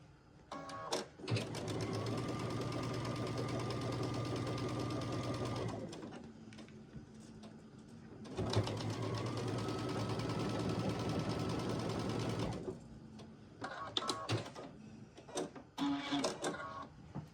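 A sewing machine stitches a quilt seam in two sustained runs of several seconds each with a steady whirring hum, separated by brief pauses and handling clicks, ending with short stop-start bursts.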